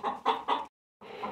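A few close chicken clucks in quick succession, a brief pause, then another clucking call, from hens on a ranch after a downpour.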